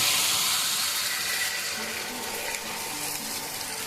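Warm water is poured into a hot frying pan of chicken masala, making a loud hiss and sizzle that gradually settles into a softer, steady bubbling.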